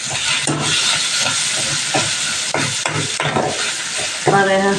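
Bottle gourd and tomatoes sautéing in a pan make a loud, constant sizzle close up, broken by repeated scraping stirs and a brief clatter at the end, with no talking.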